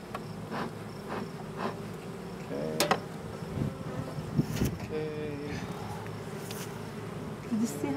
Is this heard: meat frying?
no